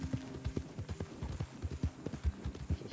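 Horse hooves clip-clop steadily on the ground in Red Dead Redemption 2, a close, regular rhythm of hoofbeats with faint game ambience and a soft tonal hum behind them.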